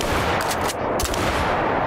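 A rifle firing in the hunting game theHunter: Call of the Wild gives two loud, close gunshot bursts about half a second apart over a dense, noisy game background.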